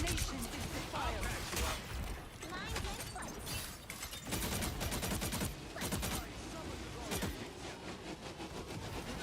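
Dense, continuous gunfire and weapon blasts in a Marvel Rivals match, loud rapid volleys and crashes layered with ability effects, while voices talk over the fighting.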